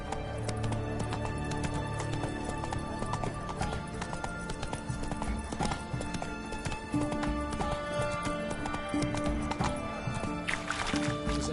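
Horse hooves clip-clop at a steady trot in a PS4 game, with a whinny and game music layered over the running gallop, loud and continuous throughout.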